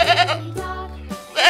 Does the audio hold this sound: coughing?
no